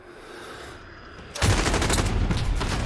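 Dense rifle fire in the Modern Warfare video game bursts in loudly after a quieter stretch and then rattles on as rapid, continuous gunfire to the end.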